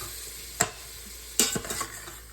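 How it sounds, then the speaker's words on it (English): Meat browning in melted butter in a pan, a steady soft sizzle with a couple of sharp stirring scrapes and taps. "the meat is already browning"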